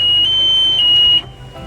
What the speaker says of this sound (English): press a button on the dash, has a warning alarm that goes off